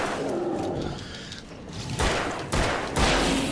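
Gunfire blasting at a boss in the video game Alan Wake, three heavy booming shots spaced about half a second apart over a low rumbling game background, loud and close with no talk.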